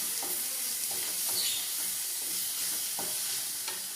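Crab sautéing with salt in a hot pan: a steady, close sizzle of frying runs throughout, with intermittent scraping and stirring clicks from a utensil against the pan, and no talking.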